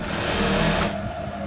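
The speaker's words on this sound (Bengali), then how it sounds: "এভাবে করে সেলাই করতে হবে।" A sewing machine stitches palazzo fabric with a fast, steady whirring run that eases off near the end, close and clear without talk.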